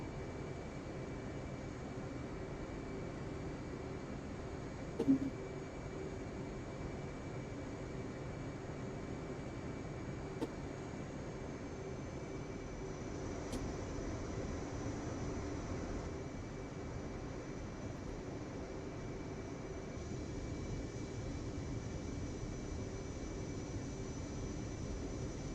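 Steady jet engine roar from an aircraft in the DCS flight simulator, a constant broadband whine and rumble that holds through the whole stretch, with a couple of brief clicks and no talk.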